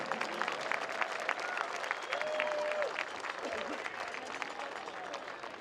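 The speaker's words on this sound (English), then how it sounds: "Take a round of applause for the alum back for this historic contest and former head coach Joe King" A stadium crowd at an RPI college football game against St. Lawrence applauds returning alumni and a former head coach, a broad, sustained wash of clapping with scattered cheers and voices mixed in.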